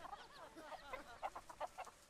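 Chickens in the Planet Zoo video game give a run of soft, rhythmic clucks, quiet and fairly close, with no speech over them.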